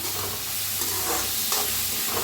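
Egg frying in a pan with cooked rice being stirred for egg fried rice, a steady close sizzle with soft scraping stirs recurring every half second or so, no voices.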